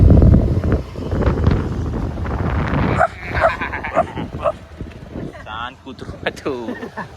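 A dog barking outdoors at night, a few sharp barks and whimpers heard amid heavy wind buffeting the microphone and people talking nearby.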